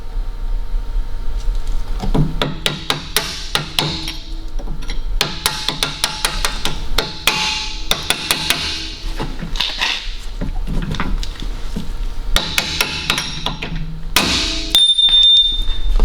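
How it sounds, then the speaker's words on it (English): Hammer blows on a steel punch driving out a lower strut bolt on an Audi Q7 (4L), sharp metallic taps in repeated bursts close by, with a dog barking and whimpering in the background. "grab your punch and give it a bit of a tap with a hammer. You need to knock that bolt out through to the other side"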